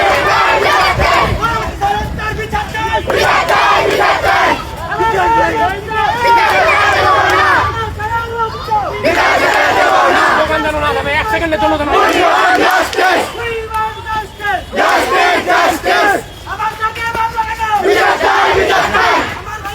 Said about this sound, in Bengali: আমরা এই মুহূর্তে দেখতে পাচ্ছি শিক্ষার্থীদের যে স্লোগান সেটি কিন্তু দেখতে পাচ্ছি।